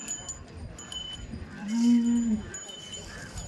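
A single native cow moos once at a cattle market, low and drawn out, lasting under a second against quiet outdoor background noise with faint clinking.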